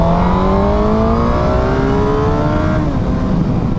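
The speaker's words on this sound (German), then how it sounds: "Ich beschleunige jetzt mal kurz durch und hört ihr das vielleicht" A Suzuki GSX-R 750 motorcycle pulls hard through the gears, its exhaust note climbing steadily in pitch, dipping at a shift, then rising again. The engine is loud and close, with wind rush and no talking.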